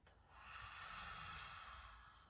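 A single long exhale out through the mouth during yoga breathing in a vinyasa flow, soft and airy, swelling gently and holding steady for about two seconds with no talk.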